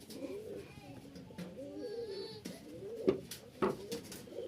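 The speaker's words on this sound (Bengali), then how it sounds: "একজোড়া হাতবাজির কবুতর" A pair of hand-flying pigeons cooing close by, soft repeated coos and rustles with other birds faintly around, while someone talks over them at times.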